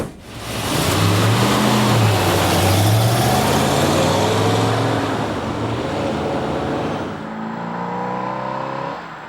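A 1970 Mach 1 Mustang pulls away and drives with a loud, close engine roar, climbing through revs and settling into a steady cruise, road and wind noise mixed in, with no talking.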